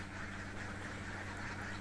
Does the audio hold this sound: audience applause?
no